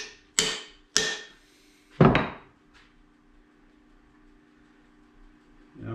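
Three sharp hammer blows strike an axe handle as it is driven into the head during hafting, followed by a fainter tap, close and loud, each with a brief ringing decay over quiet room tone.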